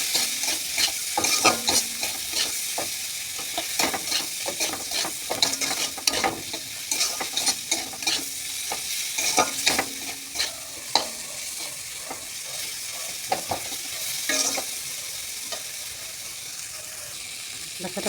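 Turmeric, ginger and cumin paste is stirred in a hot pan, the low sizzle broken by frequent sharp scrapes and clicks of a spatula in an irregular rhythm, close and clear.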